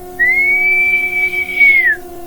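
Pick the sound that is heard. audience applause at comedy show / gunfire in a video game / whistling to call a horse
whistling to call a horse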